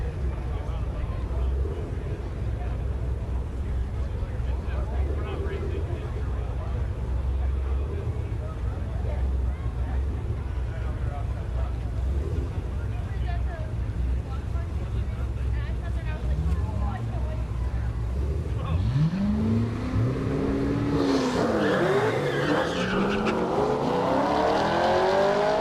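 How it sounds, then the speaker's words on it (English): A Cadillac CTS-V with a naturally aspirated 427 engine races a C6 Corvette at a Kansas dragstrip, a steady loud engine roar building into rising, sweeping revs near the end, with talk over the top. "Alex in the CTSV. This is got a 427 naturally aspirated. Left lane the C6."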